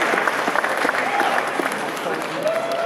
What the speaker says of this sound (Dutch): applaus voor deze compilatie